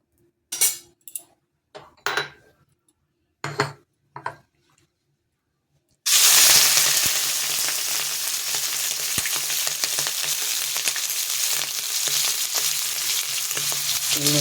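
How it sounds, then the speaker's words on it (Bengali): Small shrimp drop into hot oil in a wok. A few sharp clinks and scrapes come first, then a loud, sudden, continuous sizzle of frying takes over, with occasional utensil taps. "তেলটা গরম হয়ে গেছে আমার, এর মধ্যে আমি দিয়ে দেবো চিংড়ি মাছটা"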